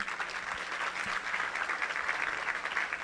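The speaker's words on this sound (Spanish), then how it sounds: "Recibámoslos con un fuerte aplauso, por favor." Warm, steady applause from a conference audience welcoming a panel on digital archives, dense and continuous throughout with no voices over it.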